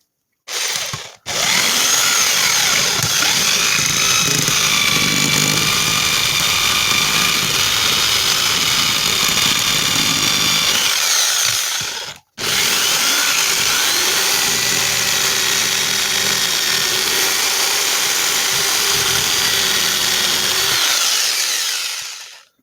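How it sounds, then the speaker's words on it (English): A jigsaw cuts around the outline of a wooden short sword in two long, loud, buzzing passes, separated by a brief stop near the middle. "I'm going to take my jigsaw and I'm going to go just around the outside of this guy."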